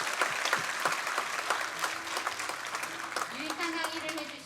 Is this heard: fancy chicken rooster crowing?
no